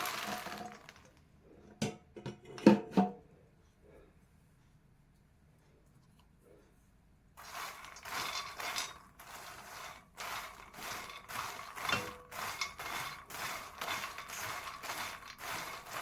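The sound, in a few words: dry roasting makhana (fox nuts) in a pan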